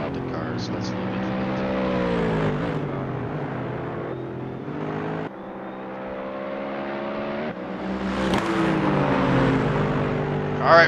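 GT3 race cars run on the track at Road Atlanta, their engines droning steadily and shifting pitch as they accelerate, with a louder surge near the end, and a commentator talking over them.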